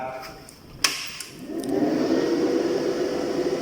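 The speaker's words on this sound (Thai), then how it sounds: "อาจจะมีเสียงพัดลมที่มันดังกว่านิดนึงนะครับผมเรามาลองเปิดเครื่องดูครับ" The cooling fan of an Andeli TIG250 GP welding machine spins up after a click at power-on, rising into a steady, loud broadband whoosh that holds on close to the listener.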